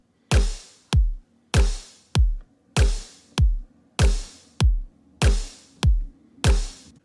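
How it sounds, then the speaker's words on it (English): A single snare drum hit repeats about a dozen times in a steady, slightly swung rhythm, each crack sharp with a short decaying tail, loud and isolated. "So next I added a snare that I got from Splice"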